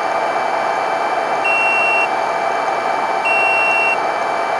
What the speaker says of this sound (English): So here's what a good fuse sounds like right here.